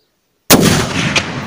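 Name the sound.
rifle shot from a .30-06 rifle with Nikon scope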